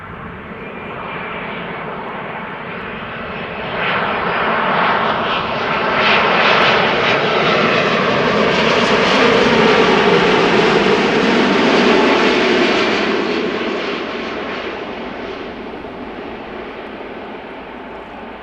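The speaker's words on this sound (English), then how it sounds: "Nice gentle touchdown there, little wheelie." An airliner lands at Amsterdam Schiphol Airport, its engine roar swelling loud and broad, peaking mid-way, then slowly fading as it rolls out; no voices.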